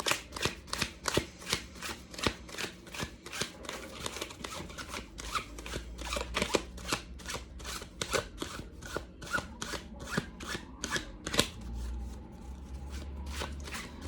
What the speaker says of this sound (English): we've got a lot of shuffling happening here